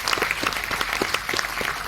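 A seminar audience claps together, a crisp, busy patter of many separate hand claps at close range, steady throughout with no talking.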